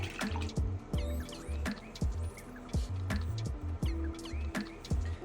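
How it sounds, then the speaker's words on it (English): An angular paintbrush is swished and tapped in a cup of water while being rinsed, giving close, repeated watery sloshes, drips and light knocks in an irregular rhythm. "So go ahead and wash off your angular brush."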